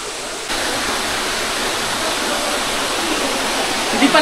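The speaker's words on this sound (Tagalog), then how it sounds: "Lapit na kami sa falls." A waterfall roars as a dense, loud, steady rush of falling water near Kamay ni Hesus falls in Batangas, filling the whole clip after a brief quieter start.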